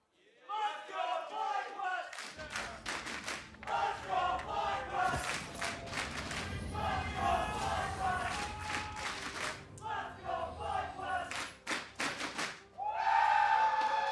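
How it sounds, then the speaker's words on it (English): Esports arena crowd at a League of Legends LCS Spring 2019 quarterfinal deciding game, FlyQuest vs Golden Guardians, cheering and shouting with thunder sticks banging, a loud sustained roar with rhythmic thumps rising and swelling throughout. "Fans of both teams here in the audience, everybody's cheering for their squad to be able to bring home the W on this one."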